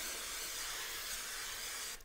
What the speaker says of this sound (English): I have some olive oil spray. We're just gonna give these a nice spray.